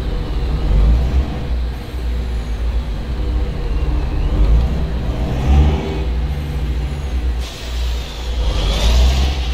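Volvo bus engine in a driving video game, the Nielson Diplomata 380, accelerating and climbing through gear shifts with a steady low rumble that surges and dips, loud and close, with a hiss near the end.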